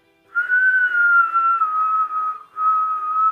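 A person whistles in imitation of a falling bomb, a sustained high tone slowly gliding downward, briefly breaking and then resuming, close and clear with no talking over it.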